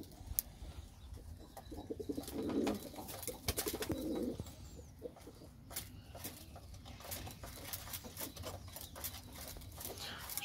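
Pet pigeons at a loft cooing, low throaty coos in a couple of short bursts amid light scratching, pattering and shuffling, fairly faint and close with no talk.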